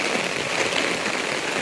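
Heavy typhoon rain pours down in a dense, steady roaring hiss, loud and unbroken throughout with no voices heard.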